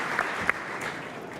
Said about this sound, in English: But another nice round of applause.